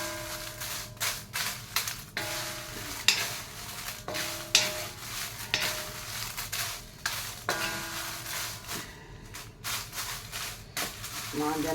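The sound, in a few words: dry chilies and spices roasting in a pan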